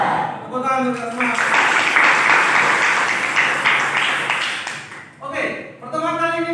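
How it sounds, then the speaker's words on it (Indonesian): A classroom of students breaks into bright, dense clapping between a teacher's spoken lines, the applause swelling for about four seconds before tapering off as the teacher speaks again. "Tepuk tangan untuk semua."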